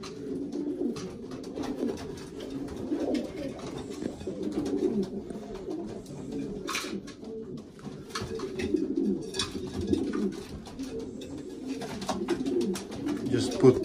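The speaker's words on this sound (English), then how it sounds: "I just pairing the pigeons today." Racing pigeons coo steadily inside a loft during pairing season, with overlapping low throaty calls running continuously at close range and no talking.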